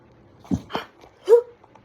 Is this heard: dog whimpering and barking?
yes